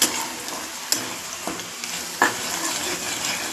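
Onions stirred in hot oil with salt and turmeric, a steady close sizzle broken by a few sharp scrapes and clacks of a spoon against the pan.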